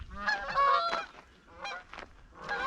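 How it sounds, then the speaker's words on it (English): Geese honking along the Bruce Trail, a few loud, nasal calls in irregular bursts, close by and clear, with short gaps between them. "Yeah, the geese."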